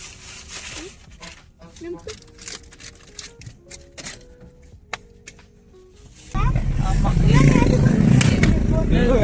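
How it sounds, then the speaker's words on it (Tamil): Voices and light shuffling give way to a sudden, loud, sustained engine roar, like motorcycles passing close by. "இவனுங்களா பைக்கர்ஸ் ஆகணுங்களா? டப்பு டப்பு சுட்டுட்டு போறானுங்க."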